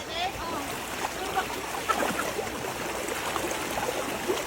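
Strong, rushing floodwater after a typhoon makes a steady broadband roar with splashes and churning. It holds at a constant level throughout, with excited voices heard faintly in the background.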